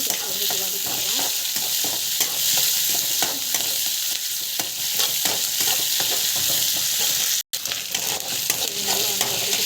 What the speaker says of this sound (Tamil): ஜஸ்ட்டு இஞ்சி போட்டு போட்டுக்கலாம். போட்டு ஜஸ்ட் வந்து வதக்கிக்கலாம்.